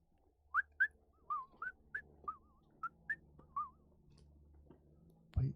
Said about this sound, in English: there appears to be a guard doing their patrol, just walking around. They're whistling.